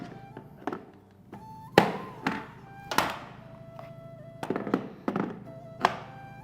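Parts of a Bosch Aquatak 130 pressure washer click and snap into place during unboxing, a series of sharp, close plastic clicks and knocks spaced irregularly over several seconds in an otherwise quiet room.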